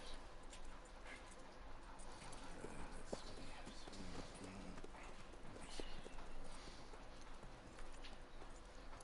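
Steady clip-clop of horse hooves in the open-world Western game Red Dead Redemption 2, a continuous walking rhythm at moderate distance with faint birds and a voice speaking now and then.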